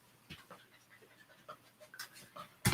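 A Labrador pants quietly up close in a short burst of quick, rhythmic breaths, with a brief louder knock or bump at the very end.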